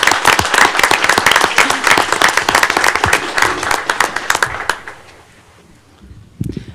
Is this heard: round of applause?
yes